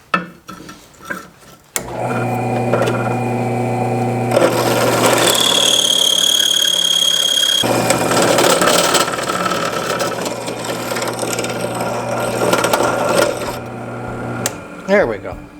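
A line boring machine bores out a worn part of a 70-year-old dozer, producing a steady mechanical drone with a whining tone that shifts midway, running for about twelve seconds after a few brief knocks.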